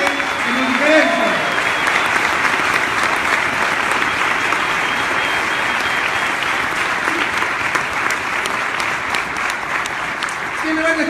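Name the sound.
applause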